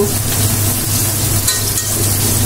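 Onions fry with salt in a pan, a loud steady close sizzle and crackle with occasional stirring scrapes, no talk.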